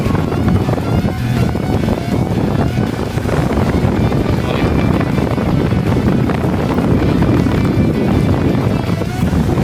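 Heavy wind batters the microphone nonstop over open water from a ship at sea, with a low boat rumble and large sloshing waves mixed into the loud, steady roar.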